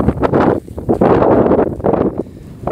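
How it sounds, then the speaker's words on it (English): Strong gusts on the Pacific Crest Trail between Agua Dulce and Mojave buffet the microphone in heavy, rumbling bursts, rising and falling with brief lulls between blasts. "It's extremely windy."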